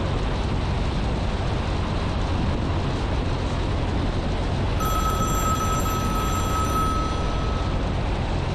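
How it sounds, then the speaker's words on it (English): A mobile phone rings with a steady electronic tone inside the cockpit of a Piper Cherokee Warrior flying the traffic pattern, starting about halfway through over a loud, constant engine and cabin drone. "Great, my phone's ringing."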